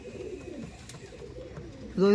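A single Madras pigeon coo rings out near the end, close and clear, after a stretch of low background murmur.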